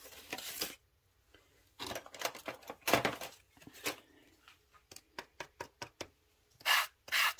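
Gesso being spread across paper pages with a scraper gives dry rubbing and scraping strokes, first a few longer swipes, then a run of short, evenly spaced scrapes, close and fairly quiet with no talk.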